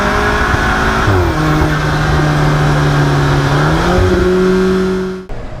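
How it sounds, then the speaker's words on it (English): An Alfa Romeo 4C engine drones loudly with a steady, slowly shifting tone as it pulls, ending in an abrupt cut-off and brief rushing release near the end. "those blow-off noises are insane"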